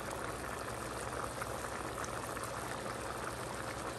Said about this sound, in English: It's really boiling a lot